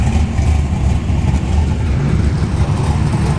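Chevrolet ZL1 Camaro on a drag strip at ShowTime Dragstrip test and tune, a loud steady low engine rumble holding through the short stretch with no talk.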